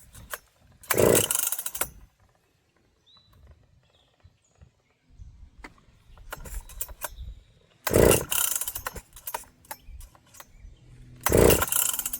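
A Makita 7900 chainsaw, already showing chain trouble, is pulled over and catches, with three loud bursts of revving engine separated by quieter idling and mechanical clatter and handling noise, and no talking.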